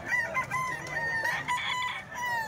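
Rooster crowing amid a busy rooster market in Baliwag, Bulacan, several birds calling over each other, with drawn-out crows and clucks close by against constant crowd background noise.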